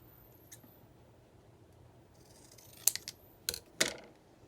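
Scissors snip through scrapbook paper to cut it in half, a few sharp close cuts clustered near the end after quiet handling, with no voices.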